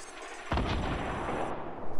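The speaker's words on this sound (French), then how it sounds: "Tiens, je tire le surf rocket normal." A surf rocket fires in Fortnite as a sudden loud blast that kicks in after a brief quiet start, then rumbles on as a sustained roaring whoosh until the end.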